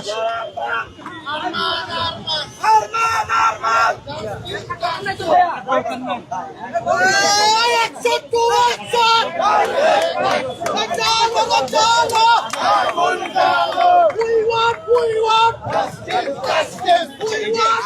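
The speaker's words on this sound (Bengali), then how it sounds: "সায়েন্স ল্যাব মোড় অবরোধ করে ঢাকা কলেজ শিক্ষার্থীরা বিক্ষোভ করছেন" Student protesters from Dhaka College crowd a blockaded Science Lab intersection in Dhaka, a loud, continuous hubbub of shouting, chanting voices and crowd chatter filling the whole stretch.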